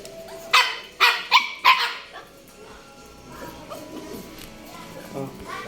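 A dog gives four sharp, quick barks close by, followed by quieter whimpering and faint voices.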